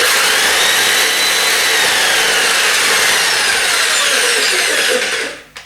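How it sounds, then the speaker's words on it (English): An Erbauer hammer drill rock breaker that sparks and starts intermittently, running continuously with a loud, steady, grinding motor roar close by, then winding down at the end. "But we'll just test this hammer."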